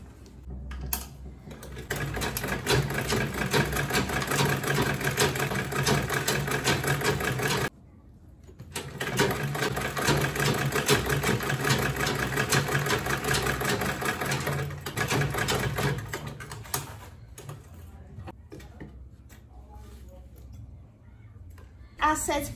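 Sewing machine stitching quilted tote bag panels, running in long steady bursts with a brief pause, then stopping into quieter handling noise as a voice talks throughout.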